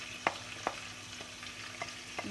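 Browned chicken pieces frying in a pan as black pepper and paprika go in, with a low, faint sizzle and a few soft scrapes from stirring, and no talking.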